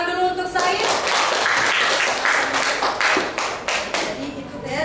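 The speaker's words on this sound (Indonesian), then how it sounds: "tepuk tangan dulu untuk Said." Classroom students clapping in a junior high civics lesson, a burst of many hands applauding together near the microphone, with voices mixed in, tapering off toward the end.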